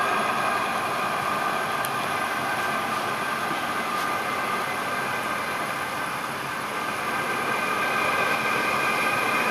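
A gas kiln burner runs in its roaring jet-engine startup mode, a loud, steady broadband rush with a faint high tone, holding unchanged throughout.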